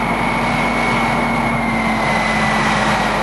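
A 1,400 horsepower Mamba jet turbine in a pulling tractor, driving through a reduction box from an old army DUKW, roars loud and steady with a constant high whine at a tractor pull event.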